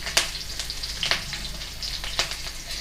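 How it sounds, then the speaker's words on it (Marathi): Chilies, cumin and curry leaves hit hot oil, giving a close, steady sizzle with sharp crackling pops scattered through it. "आपलं तेल छानपैकी कडक झालेलं आहे। आता आपण त्याच्यात मिरची टाकूया।"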